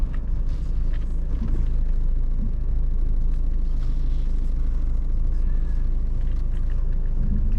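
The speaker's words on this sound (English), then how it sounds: "Was this the classical trucks from Poland and Ukraine without good with bad tires?" A heavy truck on worn, bad tires rolls past on a rural road near a spruce uprooting site, a steady loud rumble and road roar throughout.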